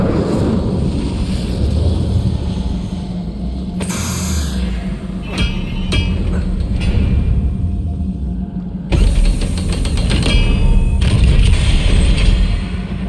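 An Incendio fire spell is cast in the Hogwarts Legacy game as a loud, continuous roaring rumble with booming bursts and clattering, mechanical ticks layered over it, and no talk.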